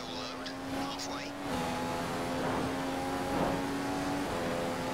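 An F1 car in the F1 2015 racing game at the Malaysian GP drones with a steady high engine tone that shifts pitch as it changes gear and holds on at speed.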